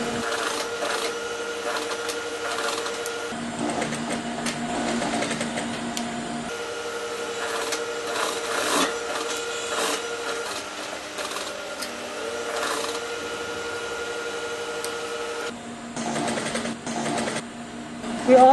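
Sewing machine stitching an outer facing onto a patch pocket, running steadily 1/8 inch from the edge; a continuous mechanical hum with repeating tonal whir and brief pauses where the stitching stops and restarts, close and alone.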